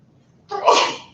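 One loud, sharp sneeze bursting out after a brief quiet moment during a statistics lecture.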